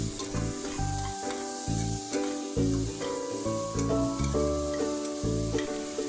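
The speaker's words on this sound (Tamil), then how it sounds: "காயெல்லாம் 5 நிமிஷம் போல் நல்லா வதங்கட்டும்." Vegetables sauté in a little oil in a pan, a continuous sizzle and stirring with a looping musical backing over it.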